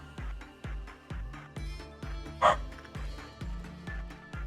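A dog in the video game Lobotomy Corporation barks repeatedly in a steady rhythm, about ten sharp barks with one louder yelp midway, fairly faint and without speech.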